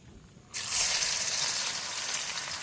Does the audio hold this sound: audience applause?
no